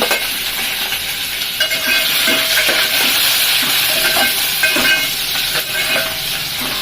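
Cumin, mustard seeds, onion and green chilli sizzle in hot oil, giving a steady, loud frying hiss with small crackles and pops throughout and no talking.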